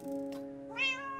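A cat in the Minecraft video game gives a single short meow, with a steady game tone underneath.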